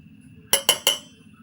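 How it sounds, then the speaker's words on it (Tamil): A spoon clinking against a bowl while spices are mixed into puffed rice: three quick, sharp metallic taps in a row, close and clear against a quiet background. "இப்போ நம்ம கரண்டி வச்சு நம்ம நல்லா மிக்ஸ் பண்ணிடலாம்"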